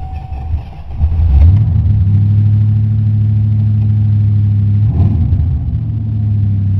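A car engine cranks and catches after a coolant leak repair, then settles into a loud, close, steady idle rumble with a brief rev partway through.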